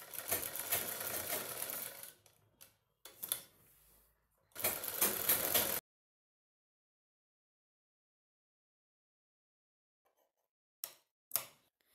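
Sewing machine stitching piping onto a square blouse neck: two loud, close bursts of rapid mechanical stitching a few seconds each, separated by a brief pause and followed by silence and a couple of light clicks.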